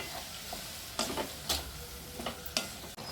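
Hotel-style pickle mix with lemon water sautés in a pan, producing a quiet steady sizzle broken by a handful of sharp spoon clicks and scrapes against the vessel.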